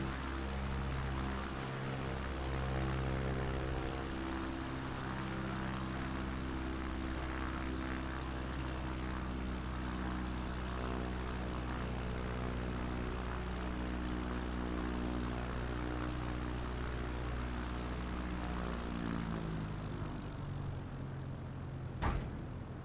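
A propeller plane lands in Flight Simulator 2020, its engine a steady, loud droning hum with a constant pitch that slowly lowers near the end, and a brief thump near the close.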